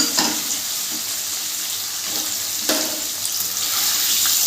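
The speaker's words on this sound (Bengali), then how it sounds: "এবার এই তেলের ভেতর আমি পনিরের টুকরোগুলো দিয়ে দেব।" Pieces of paneer fry in hot mustard oil, a steady bright sizzle with occasional sharper crackles and spits close by.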